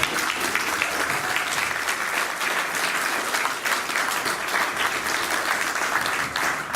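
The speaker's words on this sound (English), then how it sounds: "I think that's worth a round of applause" A steady, full round of audience applause honoring the 1951 North Austin Lions Little League World Series team, with dense, even clapping at moderate loudness from start to finish.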